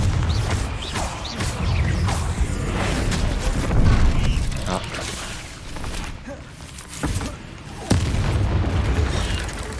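The Confringo fire spell exploding in Hogwarts Legacy, a loud booming burst with rumbling low-end impacts and repeated crackling blasts, close and dense, with a brief voice calling out amid the din.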